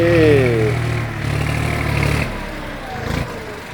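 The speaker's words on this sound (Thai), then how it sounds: "ดูรถไถนะคลิปนี้ครับดูลีลาการขับรถไถนะ" Farm tractor engine driving on a dirt-filling site, a low rumbling diesel drone with shifting pitch, moderately loud and continuous, easing off partway through.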